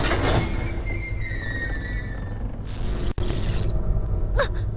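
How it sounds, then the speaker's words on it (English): A rusted lever on an old machine in the horror game Corpse Party rattles and creaks with scraping, grinding mechanical noise, then a sharp catch and a few lighter clicks near the end. "The machine was old and the lever was rusted, so it wasn't going to give without a fight."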